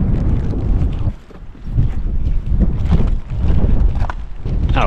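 Strong outdoor wind buffets the microphone in loud, rumbling gusts that ease briefly and then return, with no talk.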